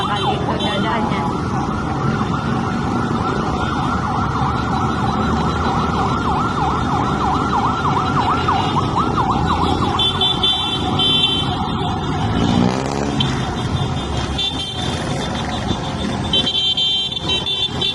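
An ambulance siren wails through city traffic in Antipolo City during a riders club anniversary event, its rising and falling tone sweeping steadily as it passes amid continuous road noise, with some talk in the background.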